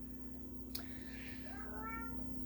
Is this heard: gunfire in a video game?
no